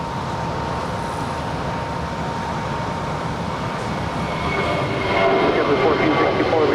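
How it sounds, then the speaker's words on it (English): Airbus A320 airliner at Los Angeles airport, a broad, steady jet engine roar that swells louder toward the end, with a voice speaking over it. "it's entirely possible that that is Spirit 1023 heading to Chicago O'Hare on an 11-year-old A320"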